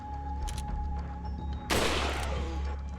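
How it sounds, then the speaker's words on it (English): A single loud gunshot in the video game Resident Evil 4 bursts out mid-clip over a steady game soundscape, its noisy blast decaying over about a second with no talking. "I shot him in the head."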